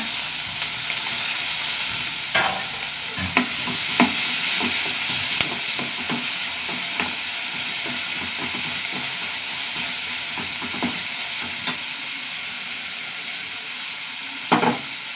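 Onions, green chillies and curry leaves sizzle during stir-frying, a loud continuous hiss broken by occasional sharp spatula scrapes and clacks against the pan.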